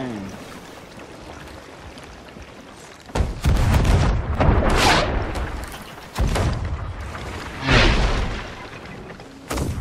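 Several heavy booming cannon blasts from a galleon in the video game Sea of Thieves go off at irregular intervals, loud and close, with rumbling and splashing noise between them.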